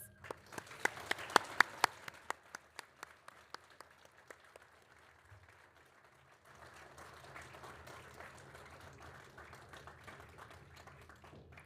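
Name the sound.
audience applause at a graduation ceremony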